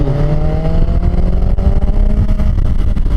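A motorcycle comes back on the throttle after braking into a lean, its engine note climbing steadily in rising harmonic bands, loud and continuous throughout with no talking.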